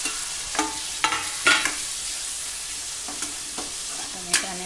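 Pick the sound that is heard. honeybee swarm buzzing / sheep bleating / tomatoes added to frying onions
tomatoes added to frying onions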